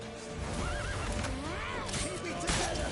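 A video game horse whinnies loudly over hoofbeats and a busy, noisy background with shouting voices.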